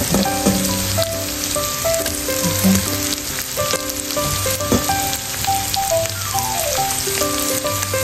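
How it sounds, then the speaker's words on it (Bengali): Washed leafy greens dropped into a frying pan after an egg has been fried, giving a continuous bright sizzle that runs under steady background music. "এখন এই যে শাকটা পানি ফেলে রাখছিলাম, এখন শাকটা দিয়ে দিচ্ছি।"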